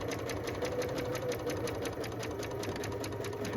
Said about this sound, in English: Now I'm sewing one of the panels. Now this is a seam and I sew in the middle of the seam.